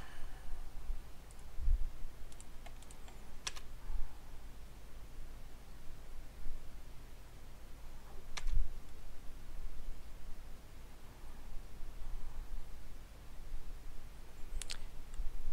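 A computer mouse clicks now and then during an online Magic card game, a few faint, isolated taps spaced seconds apart over a quiet background hiss.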